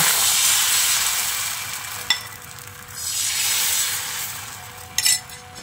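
Semolina and egg batter sizzles loudly in a hot pan as a ladleful is added and swirled around, a steady close frying hiss broken by a few sharp clinks. No one speaks.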